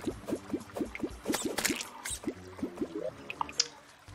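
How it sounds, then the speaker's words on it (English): Soft wet squishing and dripping blobs bouncing in a steady rhythm, a slime creature in Terraria approaching, close and fairly loud with a few brighter splats near the end. "There's a slime coming from you from the left."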